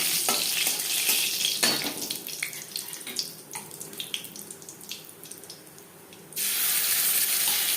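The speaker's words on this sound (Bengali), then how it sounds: "কুড়ি পঁচিশ সেকেন্ড জিরে ভেজে নেওয়ার পর" Whole cumin seeds fry in hot oil alongside dried red chilli and bay leaf, a bright, steady sizzle with scattered crackles and stirring scrapes that dips mid-way and then surges loud again.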